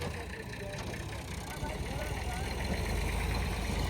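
A tractor idling outdoors among green fields, a steady low rumble that grows slightly louder toward the end, close by and continuous.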